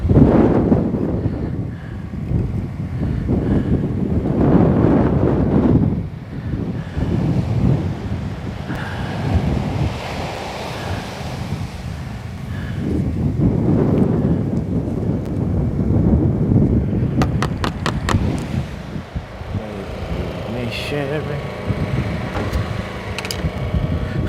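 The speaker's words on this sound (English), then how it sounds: "that wind's strong." Strong wind buffets the microphone on an Australian beach, a steady loud roar with surf washing underneath and no speech throughout.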